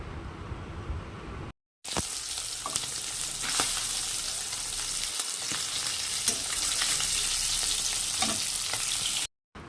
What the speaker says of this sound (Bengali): দেখো আমার মাছগুলো ভালো মতো ভাজা হয়ে গেছে